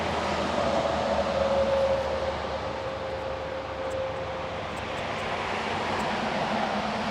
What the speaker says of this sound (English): You can hear the interstate behind me here.